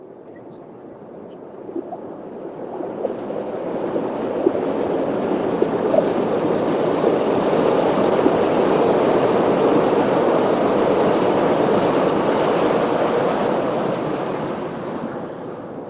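A branded train rumbles past at a distance along a trail between Milwaukee and Humboldt, a broad steady roar that swells gradually and slowly fades, with faint clatter throughout.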